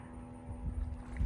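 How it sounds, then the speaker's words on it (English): Boat engines rumble low in the background on open water, a steady drone with wind buffeting the microphone and a couple of louder swells toward the end. "you're going to hear boats in the background"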